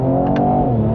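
A 2019 Mercedes-Benz E43 AMG with a 3.0-litre twin-turbo V6, in Sport Plus mode with exhaust valves open, holds a loud, steady, deep engine drone heard close up from inside the car, with a brief hissing burst partway through.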